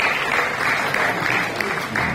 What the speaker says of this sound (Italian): un applauso ai ragazzi che stanno.